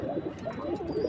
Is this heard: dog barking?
no